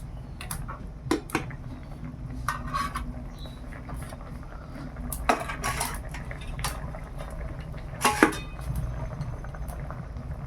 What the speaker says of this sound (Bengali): ঝোলটা খুব ভালোভাবে ফুটে গেছে, এবার মাছগুলো দিয়ে দিলাম।